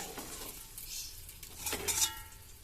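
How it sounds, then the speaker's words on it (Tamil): Mutton biryani stirred up from the bottom of the pot: a ladle scrapes and clinks against the metal in a few short strokes, with a soft rustle of rice between them. "இதை அடியில இருந்து ஒரு டைம் கிளறி விட்டுட்டு மறுபடியும் மூடி வச்சிடலாங்க"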